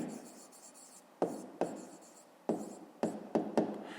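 A pen writes a maths answer by hand on paper, with soft scratchy strokes broken into several short bursts, each starting with a light tap, close and quiet.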